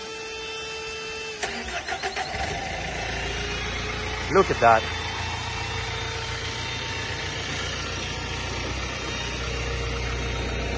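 A Mayco LS450 concrete pump's diesel engine cranks and catches with a sudden roar, then settles into a steady, rumbling idle; someone speaks briefly over it.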